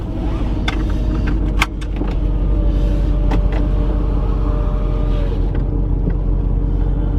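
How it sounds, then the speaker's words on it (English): Mercedes-AMG SLS engine starts up and settles into a steady, loud, deep idle rumble, with a few sharp mechanical clicks early on and no talking. "Directly start the engine."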